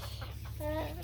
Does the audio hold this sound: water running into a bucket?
no